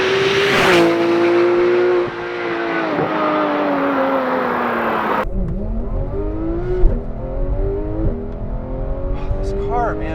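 A Porsche 991 911 GT3 engine pulls hard through a corner, a loud sustained wail whose pitch climbs and dips with gear changes and lifting off the throttle, heard from inside the car with faint talk.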